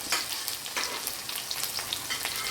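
Onion, green chilies, dried red chilies and curry leaves sauté in a pan for bean sambar, giving a close, even crackling sizzle with faint stirring scrapes.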